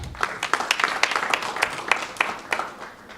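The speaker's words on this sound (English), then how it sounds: "So give him a round of applause." Audience applause at a community meeting on a sports and entertainment arena: a steady burst of many hands clapping together, fairly close and dense, holding for a few seconds before starting to thin out.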